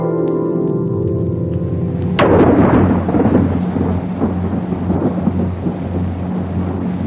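Thunder during a severe tropical storm at sea breaks with a sharp loud crack, then rolls and rumbles for several seconds over a steady low drone and patter of rain.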